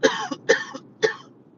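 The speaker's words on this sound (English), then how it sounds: "Coughing now." A person coughs three times in quick succession, short harsh bursts spaced about half a second apart, close and fairly quiet, with nothing else around them.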